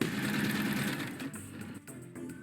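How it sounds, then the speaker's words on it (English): Sewing machine sound from the game Keep Talking and Nobody Explodes, a steady mechanical whirring hum that fades partway through, followed by faint clicks. "I already hear a sewing machine."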